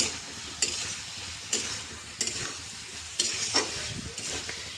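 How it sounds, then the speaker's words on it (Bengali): Fried potatoes being stirred into gravy in a pan, an even sizzle broken by periodic spoon scrapes and knocks against the pan, close by, with no voices. "গ্রেভির মধ্যে আলু ভেজে রাখা একটু কষিয়ে নেব"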